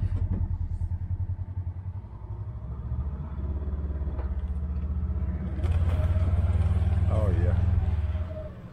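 A Polaris Ranger utility vehicle reverses over dry ground on a farm, its engine a steady low rumble close by that swells louder toward the end, with some clatter mixed in.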